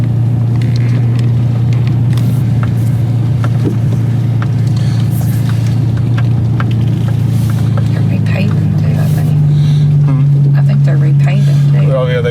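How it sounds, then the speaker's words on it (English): Cars pull out of and into a road at Lakewood Cemetery on Clinton Blvd in Jackson, Mississippi, heard as steady engine and tire drone from inside a moving vehicle, with a person talking over it. "Already seen twice as many vehicles, one pulling out and one pulling in."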